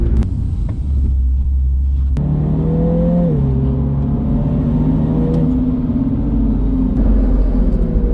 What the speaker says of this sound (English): Hot lap in the new GP.